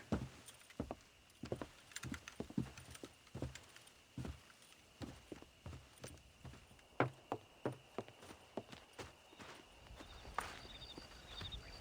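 Horses clip-clopping in Red Dead Redemption, a steady string of hoof falls at a walking pace, fairly close and moderately loud, with soft jangling of tack and no talk.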